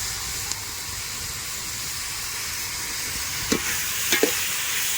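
Onions, tomato and green chilli sautéing in oil for mutton biryani, an even hissing sizzle throughout with a couple of sharp utensil clinks toward the end, close and steady.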